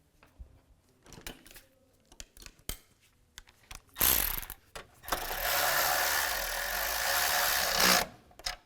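A ratchet tightens intake manifold bolts and a nut on a 2017-2022 GMC Acadia, with sparse clicks and knocks, then a loud sustained whirring burst near the end, close up and without talk.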